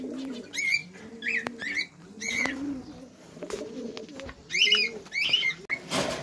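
Pigeons coo repeatedly in soft, throaty phrases close by, with a few brief chirps and light knocks between the calls.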